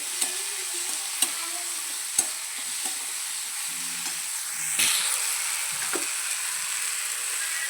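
Ginger garlic paste roasts in hot oil, a continuous close sizzle broken by a few sharp clicks of a spoon against the pan and brief stirring scrapes.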